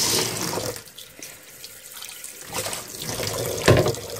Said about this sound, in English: I'm gonna pour this with some cool water into the bucket